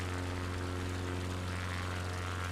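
Propeller plane engine in a flight simulator game, a steady loud drone with a strong low hum, running alone throughout at a constant pitch.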